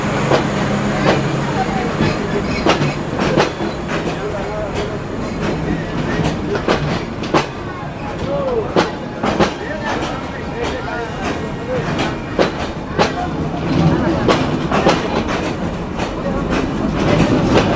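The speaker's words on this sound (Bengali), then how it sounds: "আন্তনগর চিত্রা এক্সপ্রেস যশোর রেলওয়ে জংশনে নির্ধারিত যাত্রা বিরতি শেষ করে এখন ডিপার্চার নিচ্ছে যশোর থেকে" Chitra Express intercity train pulling out of Jessore railway junction, a steady heavy rumble with rhythmic clacking of wheels over rail joints, loud and continuous, with a voice talking over it.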